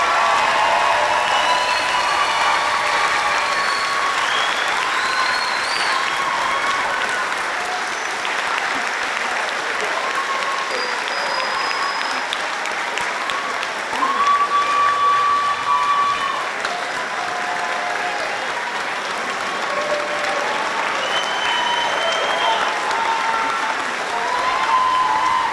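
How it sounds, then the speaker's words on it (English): Long sustained applause from a graduation audience for an eighth-grade class, a broad steady wash of many hands clapping with scattered cheers and whistles mixed in, full and continuous throughout. "Let's have one last big applause for the class of 2028."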